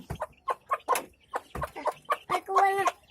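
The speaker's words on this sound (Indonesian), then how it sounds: "Ayam tuh, teman-teman." Chickens cluck and squawk in a rapid, uneven series of short calls, close by, with a longer drawn-out cackle near the end and no talk over them.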